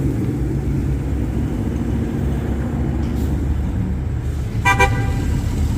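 A C7 Corvette Z51 Stingray rolls into a tire shop bay with a steady low engine rumble, and a short beep sounds near the end.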